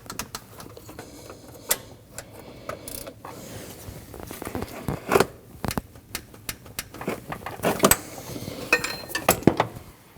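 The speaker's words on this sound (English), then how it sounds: "You want to torque those three bolts down to 20 foot-pounds." Ratchet wrench torquing three bolts on the belt tensioner of a 2012-2021 Nissan NV2500 5.6L V8, heard as close, irregular clicking bursts and metallic clatter that grow busier toward the end.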